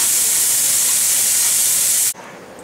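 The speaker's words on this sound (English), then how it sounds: "Put bacon into a hot pan. Oh, listen to that." Bacon hits a hot pan and sizzles loudly with a steady, bright hiss that cuts off abruptly partway through, leaving faint room noise.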